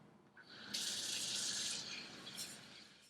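A kitchen tap runs onto measured rice being rinsed, a sudden bright gush of water that holds steady and close, then eases off toward the end.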